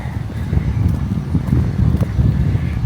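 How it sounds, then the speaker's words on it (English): Strong wind gusts across an outdoor demolition site at the old Sears building at Oshawa Centre, buffeting the microphone in a loud, uneven low rumble that rises and falls throughout. "As you can hear, it's windy as all out"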